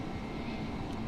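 Steady broadband roar of aircraft engines spooling to takeoff thrust in a flight simulator, a continuous even drone with a low rumbling floor, no voices over it.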